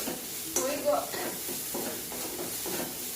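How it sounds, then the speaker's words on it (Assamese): Meat masala mixture frying in a pan, a soft steady sizzle with a few stirring scrapes near the start, close and moderately quiet throughout. "এইখিনি ভালদৰে ভাজি লওঁ।"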